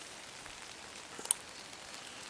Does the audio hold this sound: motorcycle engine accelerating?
no